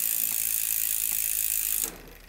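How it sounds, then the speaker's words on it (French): A mountain bike rear derailleur is shifted down to the smallest sprocket while the cassette freewheels with a fast, steady ratcheting buzz that stops abruptly near the end, heard up close with no voices. "il faut descendre tous les rapports et mettre la vitesse sur le plus petit pignon"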